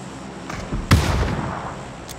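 Gunfire in the battle royale game PUBG, a single sharp loud shot ringing out with a short echoing tail amid quieter background game noise.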